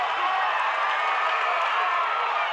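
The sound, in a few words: basketball crowd cheering after a three-pointer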